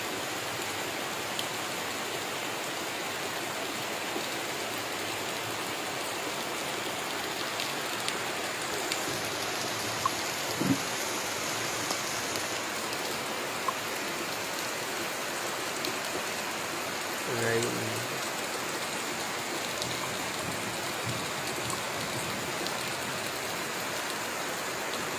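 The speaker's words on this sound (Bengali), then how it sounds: "দারুণ বৃষ্টি হচ্ছে বন্ধুরা, দেখেন" Steady rain falls on a rainy day, making an even, continuous hiss throughout, with only a few faint knocks and drips standing out from the wash of noise.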